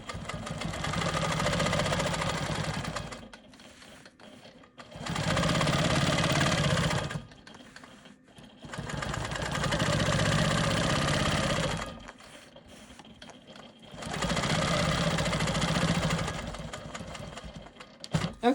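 A sewing machine stitches ruler quilting on an Ohio Star quilt block. Four sustained bursts of fast, buzzing motor stitching are separated by short pauses with quieter whirring, close and loud.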